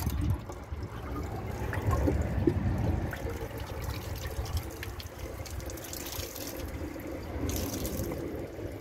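A Kohler Rialto Ingenium toilet flushing: steady rushing, trickling water runs throughout at close range, swelling slightly early on, with no voices over it.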